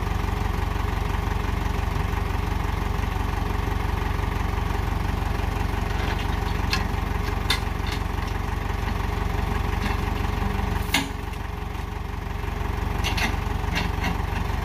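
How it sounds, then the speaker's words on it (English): A tractor engine idles and runs steadily nearby at a scrap yard, with a constant low rumble and a few brief metallic clanks partway through. "I like when he comes by, we get tractor action"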